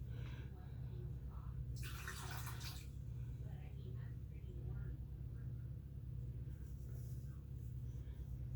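Excess water poured out of a measuring cup while making unleavened bread, a short splashing burst in the middle over a constant low hum, with faint drips after.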